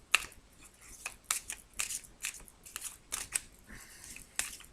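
Tarot cards being shuffled and drawn, a quiet series of soft papery flicks and snaps in irregular bursts, close by with no talking.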